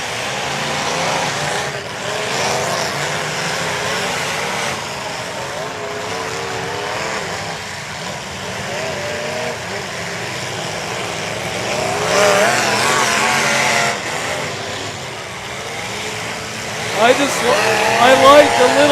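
Demolition derby cars in a full-contact event driven hard around the arena, a continuous roar of straining engines with occasional crunching hits, heard at a distance under steady commentary.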